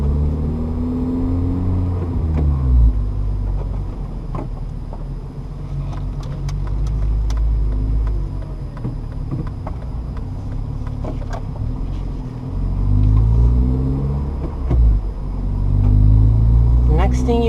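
A car engine hums low through a U-turn, a steady rumble that swells as the driver accelerates out of the turn, heard from inside the car with someone talking over it.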